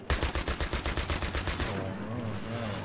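Rapid machine-gun bursts from Battlefield 3 hammer out in a loud, fast regular rhythm for nearly two seconds, then give way to a lower steady rumble and whine.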